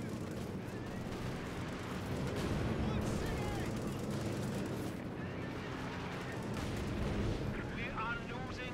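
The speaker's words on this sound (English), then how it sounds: "We have Stuka fire coming in against the forward reinforcement there" Stuka dive bomber fire in the WWII strategy game Company of Heroes 2 during a 4v4 match: continuous rumbling booms and crackling gunfire blend into a dense battle din, with a commentator talking throughout.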